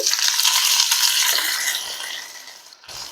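Chopped onion dropped into hot oil with frying ginger sets off a loud, bright sizzling hiss that holds for a couple of seconds, then gradually softens.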